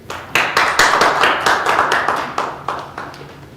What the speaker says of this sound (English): Full applause.